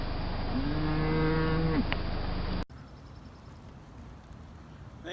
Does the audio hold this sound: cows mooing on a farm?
yes